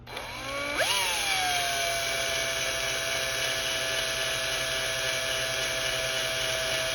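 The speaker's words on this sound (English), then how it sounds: "You want to let the drill do all the work." A steady electric drill whine spins up and holds at a constant high pitch, loud and close, with no pauses, drilling a small hole in a tumbler.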